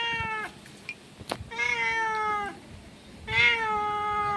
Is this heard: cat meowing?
yes